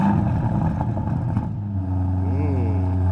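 An Aston Martin DBX engine fires and settles into a loud, steady idle, its deep rumble building then holding with a slight rise in revs near the end, heard close and alone.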